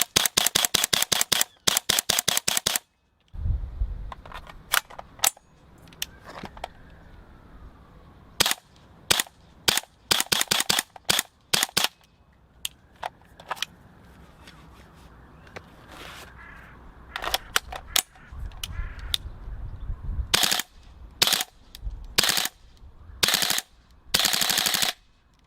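A GHK M4 gas blowback airsoft rifle fires in sharp, loud bursts of rapid cracking shots separated by quiet gaps, with single shots and clusters spread across the span and faint mechanical clicks between them.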